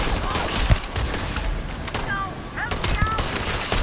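Rapid gunfire in a video game, dense loud bursts of shots nearly continuous across the clip, with game voices faintly mixed in.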